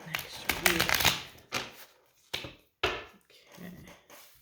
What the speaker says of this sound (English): Get these shuffled before I start the next reading.